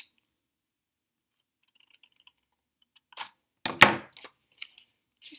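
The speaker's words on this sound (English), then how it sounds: "I want to cut along each one of these little 8 lines that I made" Scissors snip along drawn lines while making jellyfish-style friendship bracelets: after near silence, a few quiet, crisp snips and clicks come in a short irregular cluster, close by.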